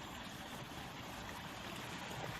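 A small stream flows steadily near the old gunpowder mills in Surrey, a continuous close rushing and trickling of water with no voices over it.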